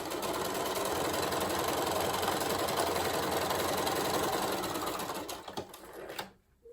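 A sewing machine stitches a 9 patch quilt block in a fast, continuous mechanical whir that runs evenly for about five seconds, then slows, stutters and stops.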